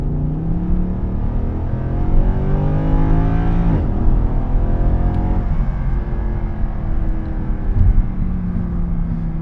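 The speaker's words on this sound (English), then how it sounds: "Now we're gonna pull onto a little straightaway here, and I'm gonna give it some gas" A 2012 Mercedes-Benz C63 AMG engine, 441 horsepower, revs hard and accelerates on a straightaway, its pitch climbing steadily, dropping briefly at a gear change, then rising again, loud and close throughout.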